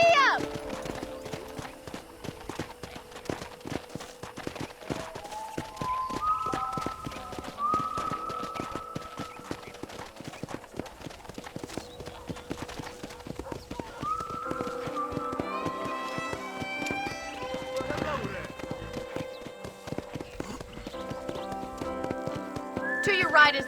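Hooves clip-clop at a steady, rhythmic walk as a horse is ridden around a ranch in the video game Red Dead Redemption, with whinnies, background music and a voice talking over it.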